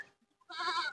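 A single goat bleats loudly and close by, one sustained wavering call in the second half after a near-silent start.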